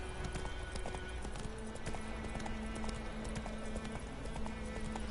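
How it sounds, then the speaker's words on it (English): Horse hooves clip-clopping at a steady trot while riding in the video game Witcher 3, a continuous rhythmic beat close up over a constant background hum, with no talk. "The other Witcher game didn't have horse riding,"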